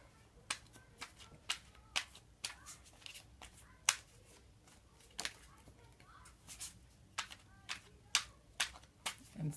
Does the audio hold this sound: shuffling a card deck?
yes